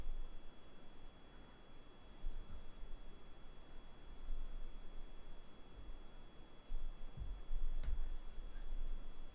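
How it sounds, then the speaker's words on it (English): Computer keyboard keys clatter in irregular bursts of soft clicks and heavier taps, close and fairly quiet over a faint background hiss. "My keyboard's going nuts."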